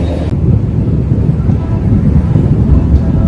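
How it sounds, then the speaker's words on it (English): Thunderstorm at a highway rest area on the way to Orlando: a broad, loud rumbling wash of thunder and rain noise with some wind buffeting, continuous throughout and no speech. "Thunderstorm."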